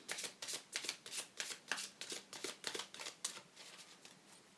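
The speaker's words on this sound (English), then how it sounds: "Now, I'm just going to choose one more card." Tarot oracle cards riffle quickly through the hands while one is drawn from the deck, a rapid run of crisp papery flicks repeating steadily, close and fairly soft with no voice.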